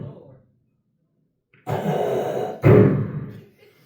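A man imitates Darth Vader's breathing on stage with two long, raspy, mechanical-sounding breaths, each heavy and close, following a short pause.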